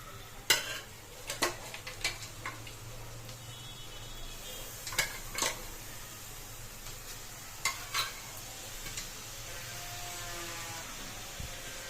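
Boiled mutton, cooked earlier with turmeric and salt, goes into a pan of softened tomatoes for a mutton fry, with intermittent spoon scrapes and clinks over a low steady frying hiss.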